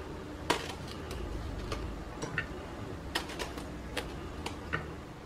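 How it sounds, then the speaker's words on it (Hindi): Green chilies chopped finely with a knife on a board in a home kitchen, a string of faint, quick, uneven taps and clicks over a steady low room hum, with no voices. "इसको हम इस तरह काट लेंगे बारीक बारीक"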